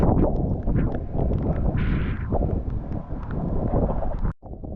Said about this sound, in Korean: 바람 떴네. 우와, 또 온다.